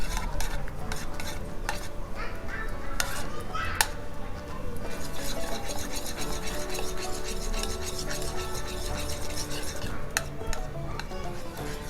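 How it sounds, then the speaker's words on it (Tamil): A spoon steadily stirs butter into a thick milk powder mixture in a pan, giving continuous scraping and clinking, with occasional sharper taps against the vessel. "இந்த பட்டரையும் இப்போ சேர்த்து நல்லா மிக்ஸ் பண்ணியாச்சு."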